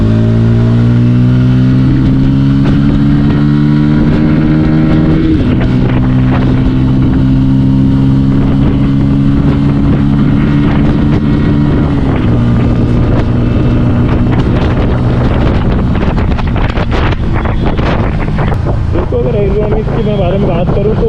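A Bajaj Pulsar P150 motorcycle riding along, its engine note droning and shifting pitch as it changes gear, heavily mixed with loud wind buffeting the microphone and faint road noise throughout.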